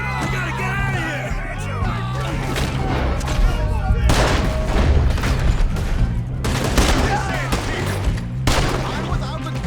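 Rapid gunfire and a chaotic shootout in the video game Red Dead Redemption 2, dense bursts of shots and booms in waves under shouting voices, loud and close throughout.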